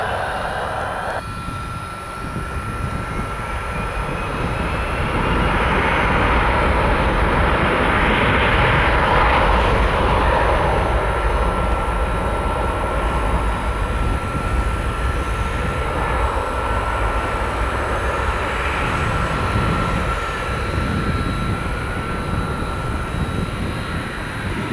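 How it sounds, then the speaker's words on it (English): Beechcraft King Air turboprop on a two-mile final approach at Tampa International Airport, a continuous loud engine drone with broad roaring noise that swells slightly midway, steady throughout with no talking. "We got a King Air on a 2 mile final."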